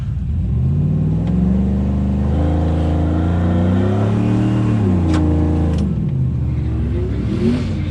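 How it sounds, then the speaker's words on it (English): A 2002 Chevy Suburban at a drag strip does a burnout at Speed World Orlando, with the engine revving up and down in repeated loud surges and a deep rumble underneath, heard close and alone. "See if we can get a little bit of a burnout."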